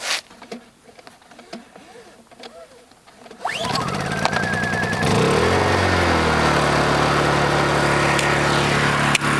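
A Honda EU2000i portable generator, choke on, fires up on the first pull and settles into a steady, loud running hum after a short burst of starting noise.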